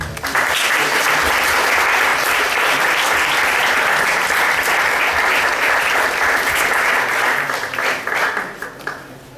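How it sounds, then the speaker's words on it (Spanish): Audience at an academic seminar on memory and history breaks into sustained applause, a dense wash of clapping that holds steady for about eight seconds before thinning out at the end. "quiero que le den un fuerte aplauso, por favor."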